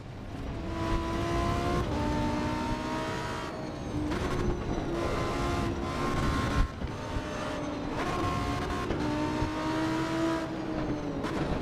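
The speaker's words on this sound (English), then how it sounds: "V10 powered, just like a Lambo." A V10 car engine in the Assetto Corsa EVO racing game at the Nürburgring revs up and shifts again and again in repeated rising pulls, steady and fairly faint, with no talk.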